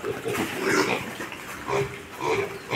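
Piglets from a purchased batch of twelve grunt and oink in a steady, overlapping chorus, fairly close and continuous, with no talking over them.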